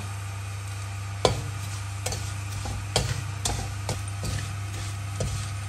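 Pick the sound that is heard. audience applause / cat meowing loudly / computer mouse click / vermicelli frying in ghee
vermicelli frying in ghee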